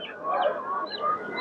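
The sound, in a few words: geese honking at a poultry market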